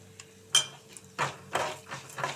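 Coriander and cumin seeds being dry-roasted in a pan, with a spoon scraping and clinking against the metal in a steady, repeated rhythm of close, bright strokes. No talk is heard.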